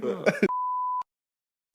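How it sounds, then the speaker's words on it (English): A single steady censor bleep, about half a second long, cuts in right after a burst of speech, followed by brief silence. "I'm gonna beep it out"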